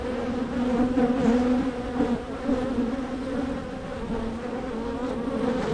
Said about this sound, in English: If these bees were queenless, I would almost expect them to be a little bit more agitated.